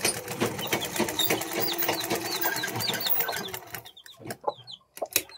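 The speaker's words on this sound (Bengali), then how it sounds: "এই যে কর্নার ধরে আবার এই দিকটা সমান করে হাফ ইঞ্চি মতো চেষ্টা করে সেলাই করছি" A sewing machine stitches a ribbon in a steady rapid whirring run for several seconds, then stops and leaves sparse clicks and handling knocks, with faint chicken clucks in the background.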